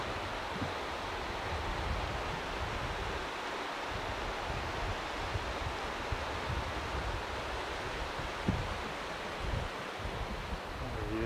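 Floodwater rushes through drainage channels during the 1992 Lytle flood, a steady broadband roar of churning water with faint wind buffeting the microphone, continuous and fairly loud throughout with no talk.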